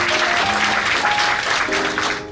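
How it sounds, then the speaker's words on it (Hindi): A seminar audience claps together, a dense, steady wash of applause that holds level for a couple of seconds, with faint speech traces underneath. "बजा लीजिए ताली बजा लीजिए"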